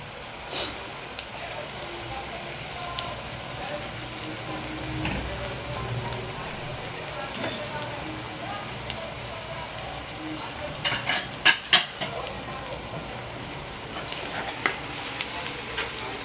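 Chopped onions fry steadily in a pan over 16 seconds, with a soft continuous sizzle under scraping and clinking as a spoon stirs, a cluster of sharper utensil knocks near the end; faint voices murmur in the background.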